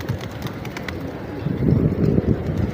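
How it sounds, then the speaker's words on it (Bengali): Pigeons flock in a city pigeon park in Malé, Maldives, with a steady rustle of wings and soft cooing close by that thickens into a fuller flutter partway through. "কবুতরগুলা সমানে আসতেছে"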